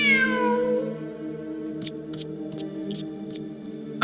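A video-game cat meows in a single long, falling call at the start, followed by a steady low musical drone with a few brief soft ticks, with no talk.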